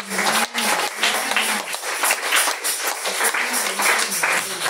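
A church congregation breaks into sustained applause after a sermon, a dense, steady roar of many hands clapping close by, with faint voices blended underneath.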